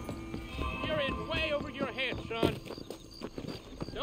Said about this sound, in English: Horsey, come here.